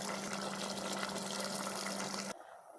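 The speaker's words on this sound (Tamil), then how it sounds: "தேவையான அளவு தண்ணி ஊற்றியாச்சு." Water poured into a pot of boiling chicken curry for biryani, a steady rushing fill for over two seconds that cuts off abruptly, leaving quiet kitchen background.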